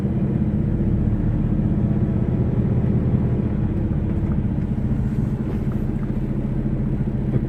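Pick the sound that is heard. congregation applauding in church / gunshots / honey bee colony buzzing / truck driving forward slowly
truck driving forward slowly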